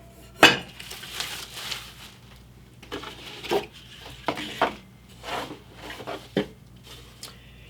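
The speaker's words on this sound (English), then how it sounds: "the lid fits on nicely so that once we lift it out, we can use this independently by itself" The inner pot and lid of an Aroma rice cooker handled during unboxing, scattered light clinks, knocks and rubbing scrapes at close range, irregular and fairly quiet, no voices.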